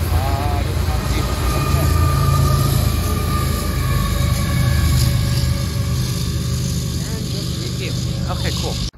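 A freight train with locomotives, including a DPU, rumbles steadily past, heavy and continuous with low mechanical drone, while voices talk over it.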